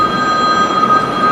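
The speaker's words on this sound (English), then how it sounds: "Turn that phone off or step out." Steady electronic ringing of a mobile phone in a courtroom, a constant high tone with bright harmonics over low room hum, close and fairly loud, no voices.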